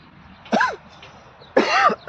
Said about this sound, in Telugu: దగ్గు తలిగింది